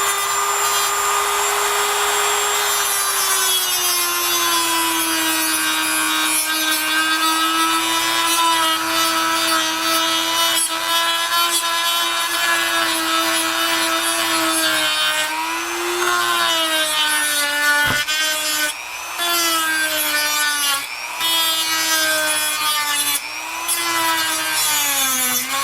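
A dry grinder cutting through the pin of a Hobie Mirage Drive V2 kayak chain assembly: a loud, continuous high-pitched whine with shifting pitch over about twenty-five seconds, briefly dipping as the blade bites in.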